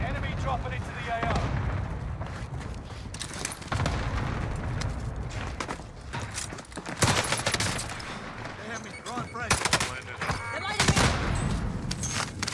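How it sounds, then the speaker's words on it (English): An allied cluster strike barrage in Call of Duty Warzone rolls in as a dense, continuous string of explosions and gunfire. The rumbling blasts build and peak late, loud and close. "Allied cluster strike arriving"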